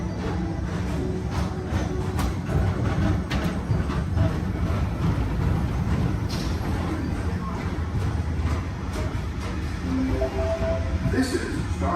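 Space Mountain ride vehicles at Walt Disney World rumble past continuously, a loud low rolling roar with rattling track noise and faint voices in the background.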